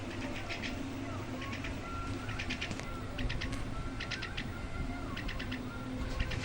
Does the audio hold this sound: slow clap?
no